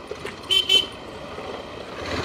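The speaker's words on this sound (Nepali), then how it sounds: "हरन चाहिँ सानो जस्तो लाग्यो मलाई" Two short, close horn toots from a Hero XPulse 200 motorcycle sound in quick succession over a quiet outdoor background.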